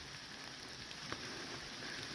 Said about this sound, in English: the stream's flowing a lot stronger than it was last night